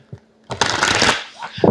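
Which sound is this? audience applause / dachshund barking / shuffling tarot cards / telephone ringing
shuffling tarot cards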